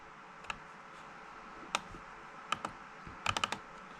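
Keys on a computer keyboard with several keys no longer working are pressed in sparse, uneven taps, single clicks then a quick cluster, close and crisp over a low room hum.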